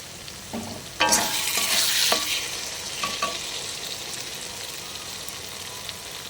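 Mutton curry gravy is stirred in a hot pan: a sharp scrape and clatter of the spoon starts a burst of sizzling that fades into a softer, steady bubbling with a few more scrapes.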